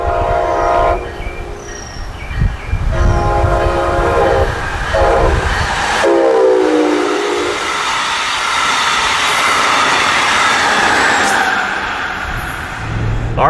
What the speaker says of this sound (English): And here came another Brightline.